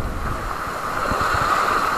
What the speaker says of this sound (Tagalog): Lalaki pa naman ang alon.